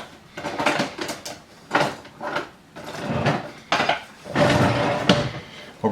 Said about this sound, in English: let me get a spoon here